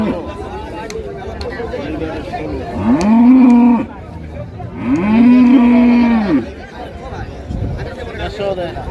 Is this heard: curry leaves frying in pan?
no